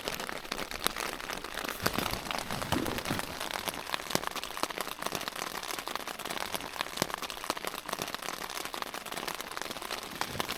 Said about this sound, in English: But yeah, definitely raining.